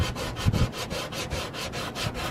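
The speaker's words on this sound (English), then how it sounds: "I'm sanding it down and I'm waiting for the high spots to reveal themselves" Rhythmic back-and-forth strokes of hand sanding across body filler on a car fender, a close, steady rasping swish repeating roughly every quarter second, with no talk.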